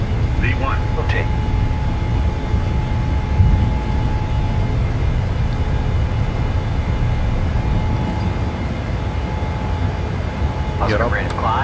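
Engine roar of a DHL cargo Boeing 737F on its takeoff run in Microsoft Flight Simulator 2022, a steady broadband rumble and whine throughout, with a voice calling out over it.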